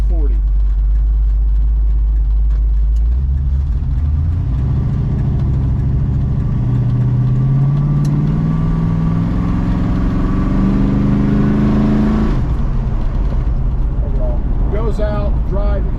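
A 1970 Plymouth Cuda with a 440 V8 accelerates while driving, the loud, deep engine note rising through the gears before easing off, and someone talks over it.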